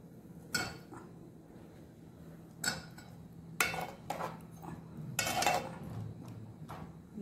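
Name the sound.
cut potatoes being added to a pot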